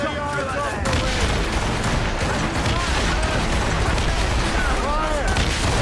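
Ship cannon fire during a naval battle in Assassin's Creed Rogue, heavy booms and rumbling blasts layered continuously under shouted crew voices and battle noise.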